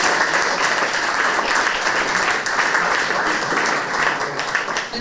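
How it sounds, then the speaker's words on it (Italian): An audience at a youth award ceremony gives sustained, dense applause for the participating students, loud and even for the whole stretch with no talk over it. "Io farei intanto un bel applauso a tutti per aver partecipato."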